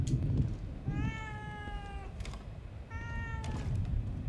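Cat meowing in The Evil Within 2, two clear, drawn-out meows about a second apart, close and fairly loud over a low background hum, with no talk.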